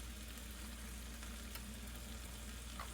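Onions, garlic and thyme frying in a pan for a citrus sauce for salmon, a faint, steady sizzle close by with a few soft clinks and no talk.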